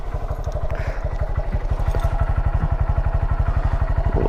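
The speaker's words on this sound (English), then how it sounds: "Sounds like we caught a stick." A Honda Grom motorcycle rides along with a steady engine drone while a caught stick drags beneath it, adding a rapid, even rattling clatter pulsing close and loud throughout.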